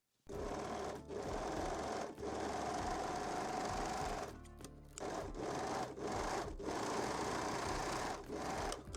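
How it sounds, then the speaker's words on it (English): Serger overlocking the neckline edge of lace bralette cups, a steady fast motor buzz running in long bursts with a few short pauses and restarts, close and loud with no talk. "I'm using the serger today"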